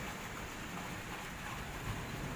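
Steady rain falls in a rainy-season downpour, a soft even hiss with no breaks, faint and distant, and nobody talks.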